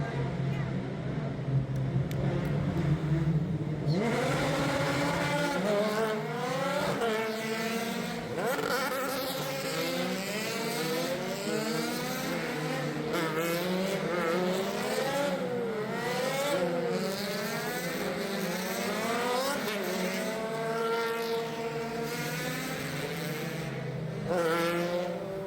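IndyCar race cars at the 2025 season opener in St. Petersburg, Florida, a steady loud engine whine with repeated rising and falling pitch sweeps as cars pass, lasting throughout amid crowd noise.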